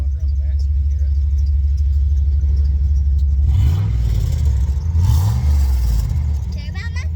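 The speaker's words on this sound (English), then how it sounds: "Tell them what kind of muffler you put on the Jeep." A Jeep engine running through a Cherry Bomb muffler gives a loud, continuous, deep exhaust rumble, close by, that rises in a couple of revs partway through while people talk over it.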